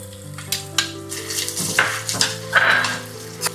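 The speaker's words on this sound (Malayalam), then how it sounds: "നെയ്യിൽ നമ്മൾ നാളികേരം വറുത്ത് കോരാൻ വേണ്ടിയിട്ടാണ് നെയ്യ് ചേർത്തുള്ളത്." Finely chopped coconut fries in hot ghee for jackfruit ada, crackling and sizzling up close while a spoon stirs and scrapes the pan in intermittent clinks.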